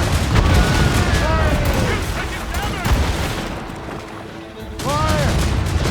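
Cannon and musket volleys boom and crackle in a naval battle in Assassin's Creed Rogue, a dense, loud barrage of overlapping blasts with shouted orders over the firing.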